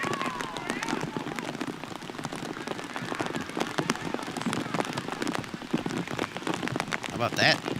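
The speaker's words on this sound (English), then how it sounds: "Rain still pounding down," Heavy rain pounds down on a soccer field during a 2019 women's college match between Rutgers and Penn State, a dense, steady hiss of drops with a voice talking over it.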